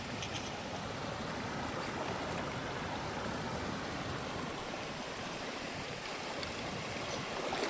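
River water flows steadily below a waterfall over bedrock and gravel, a constant, even rushing wash that fills the whole clip with no speech.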